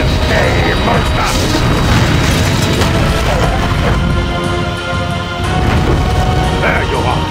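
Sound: crystal cannons firing in Godzilla Unleashed video game

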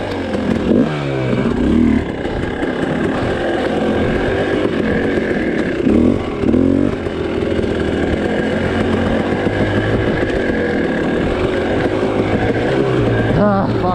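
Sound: hard enduro dirt bike engine revving

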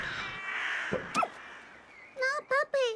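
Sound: blackbird cawing in the video game Little Misfortune

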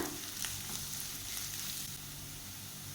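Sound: chillies and curry leaves frying in oil

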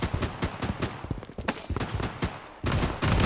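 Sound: gunfire in the video game Project Bloodstrike

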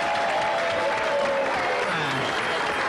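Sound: audience applause welcoming three guests

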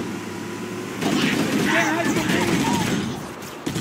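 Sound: gunfire in the video game Halo 1

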